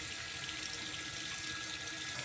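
Clothes are washed at home under running tap water, a steady close gush of water splashing continuously without a break.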